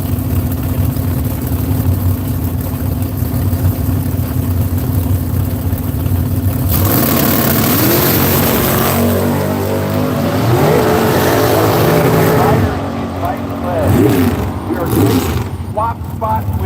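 Drag race cars at the strip, including a 1967 Camaro, idle with a deep steady rumble before launching into loud rising engine roars with repeated gear-change sweeps, close by, with a voice talking over the engines.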